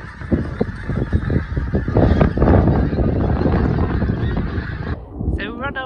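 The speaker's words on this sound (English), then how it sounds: "there was a huge flock of geese over our heads" A huge flock of geese flies overhead above farmland, dense overlapping honks forming a loud, continuous chorus that cuts off abruptly near the end, followed by a few clearer calls.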